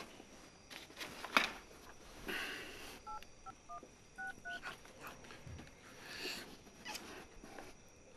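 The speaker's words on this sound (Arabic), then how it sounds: "بوزيد عيطلو" Telephone number being dialed on a keypad, a short run of distinct DTMF tone beeps, faint and close, over quiet room noise with a few soft knocks and rustles.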